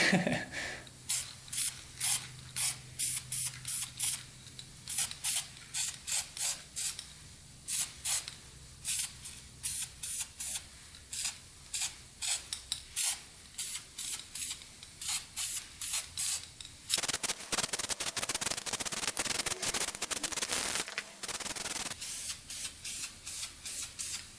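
A spray can coats a dirt bike part with flame-proof paint in rapid short bursts of hiss, then a longer continuous spray near the end, close up and with no talking.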